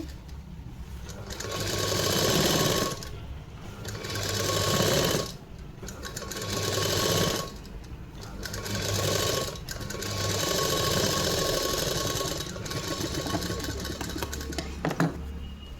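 Sewing machine running a double stitch on a three-piece princess-cut garment, loud and close, in long continuous whirring runs separated by brief pauses.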